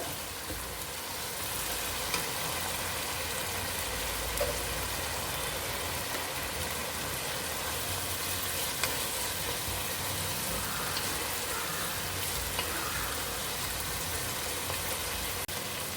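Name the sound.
sautéing in hot oil for chicken fried rice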